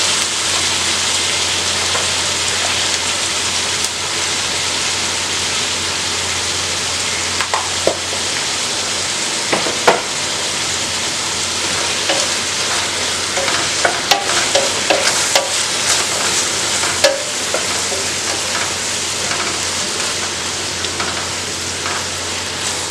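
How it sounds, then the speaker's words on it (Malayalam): Sliced onions fry with salt in a pan for Malabar fish biryani masala, giving a loud, steady hiss and sizzle with occasional scrapes and taps of a spoon stirring, close up and continuous. "അപ്പോൾ സവാള ഒന്ന് വഴന്ന് കിട്ടും."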